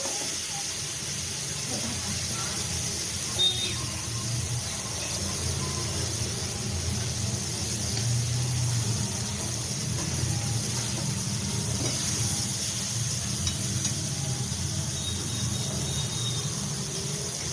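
Fish heads being fried with spices in a pan for a gourd curry, a steady close hiss and sizzle running evenly throughout with faint background noise.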